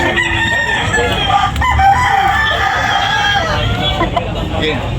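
Roosters crow repeatedly and hens cluck at a busy outdoor chicken sale in the Philippines, with steady crowd babble and voices throughout.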